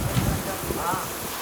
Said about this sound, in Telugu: వర్షం ఘోరంగా పడుతుంది